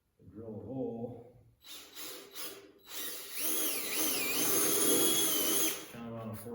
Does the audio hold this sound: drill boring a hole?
yes